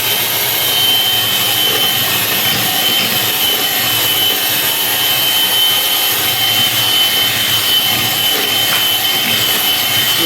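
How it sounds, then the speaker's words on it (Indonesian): An electric hand mixer whirs steadily while beating banana cake batter, a continuous loud motor drone with a grinding, rushing texture that holds at the same level the whole time, with no talking over it. "Kita mixer kurang lebih hanya 2 menit."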